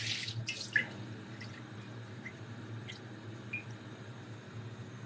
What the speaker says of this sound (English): This is the bleach oil I'm putting inside my pot.